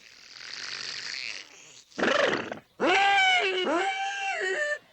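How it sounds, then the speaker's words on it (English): A cartoon dog lets out a loud, exaggerated burp in a jungle cartoon comedy, heard as a rough growling groan followed by a long, bellowing, trumpet-like blast that swells and wavers, loud and close. "Shep is a doggy, but if he was an elephant, that would have been a burp."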